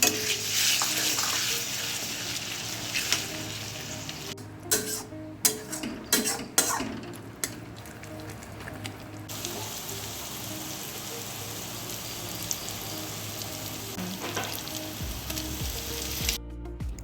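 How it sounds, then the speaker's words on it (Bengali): Spice paste for mutton curry frying hard in a pan after water is added, a loud continuous sizzle with bursts of scraping and stirring in the middle, close and uninterrupted by any voice. "এরপর মশলা ধোয়া জল দিয়ে খুব ভালো করে কষাতে থাকবো"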